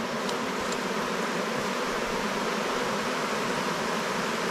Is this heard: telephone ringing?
no